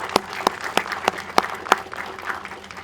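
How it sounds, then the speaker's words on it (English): Applause from a press conference audience at the new Mt. Hope School event, a few sharp claps standing out over a steady patter of clapping hands, moderately loud and with no voices. "I think you all deserve a round of applause"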